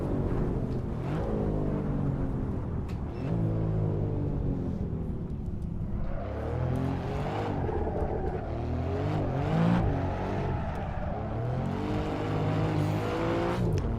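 Alfa Romeo Giulia Quadrifoglio driving in the racing game Assetto Corsa, its engine roaring steadily throughout with revs rising and falling through gear changes, plus brief tyre squeal, loud and close with no talk.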